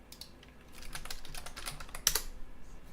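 Quick bursts of typing on a computer keyboard, soft clustered keystrokes close by with a slightly louder clack near the end, quiet and without speech.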